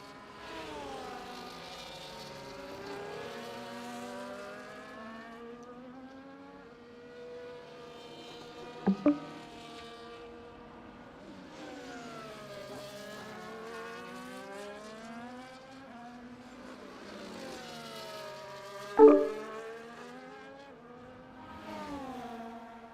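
F1 race cars in a video game scream past the finish line at Spa, high revving engines rising and falling in pitch as they sweep by, with a couple of sharp gear-change pops in between.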